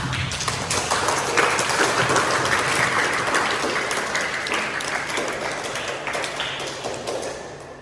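Children clap together in a lesson on Quran recitation, a steady, fairly loud round of applause with scattered taps that slowly fades over several seconds.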